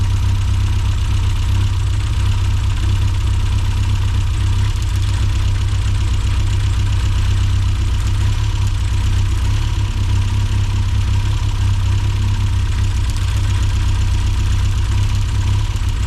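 A Mini John Cooper S Sport 5 engine idles roughly with a spark plug lead pulled off during a misfire check: a loud, close, steady low drone with an uneven, knocking pulse throughout and no talk.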